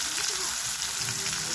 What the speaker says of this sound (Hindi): थोड़ा सा नमक से फ्राई कर लिया गया।